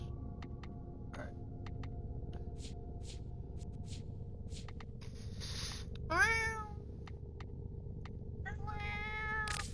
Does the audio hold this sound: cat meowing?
yes